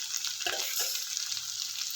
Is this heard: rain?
no